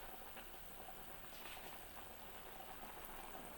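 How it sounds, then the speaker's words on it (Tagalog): Pochero sauce simmers in a pot, a faint steady bubbling hiss with no other sounds. "Ayan, kumukulo na."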